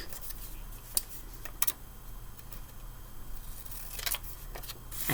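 Scissors snipping paper for a monster craft, a few faint quiet snips and clicks spread over a soft background with no talk.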